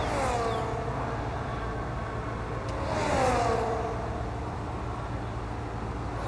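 Cadillac race cars speed down the back straight of the Miami circuit in a racing game sprint race, two engine passes rising and fading with whooshing Doppler sweeps over a steady droning background.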